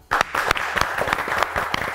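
Studio audience applause in a Persian TV quiz show, a dense burst of many hands clapping that starts abruptly and holds steady and loud throughout, with individual sharp claps standing out in the crowd wash.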